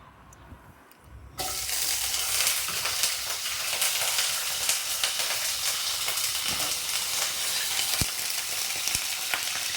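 Oil sizzles and crackles loudly and steadily as small eggplant pieces fry, starting abruptly after a quiet moment and holding a dense hiss throughout.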